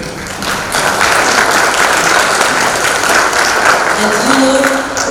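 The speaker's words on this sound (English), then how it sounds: "I want a big applause for him." Dense, steady applause from a large audience at an association's opening ceremony, honoring one of its founders, loud and sustained across the whole stretch with faint voices murmuring underneath.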